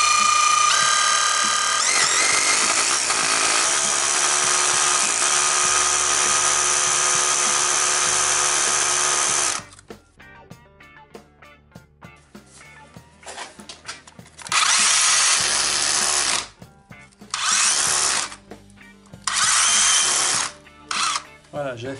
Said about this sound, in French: un coup de perceuse.